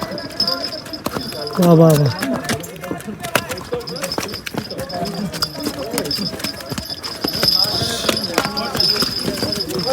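Horses carry riders along a narrow mountain trail in Pahalgam's Baisaran valley, Kashmir, near snow. Their hooves clip-clop steadily and fairly close, under continuous talk from people nearby.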